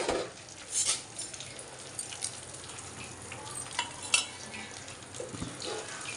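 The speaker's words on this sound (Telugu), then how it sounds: "ఎండుమిర్చి ఆవాలు జీలకర్ర మూడు వేసేస్తున్నాను" Dried red chillies, mustard seeds and cumin fry in hot oil for a tempering, a soft continuous sizzle with occasional sharp pops and utensil clinks, close and moderately quiet, with no talk.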